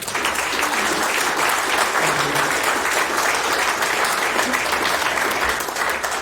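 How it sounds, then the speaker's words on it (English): An audience at a boxing hall-of-fame induction gives a long round of applause for a veteran Australian boxing promoter, a dense, steady roar of many clapping hands that stays loud and even throughout. "I think he deserves a round of applause."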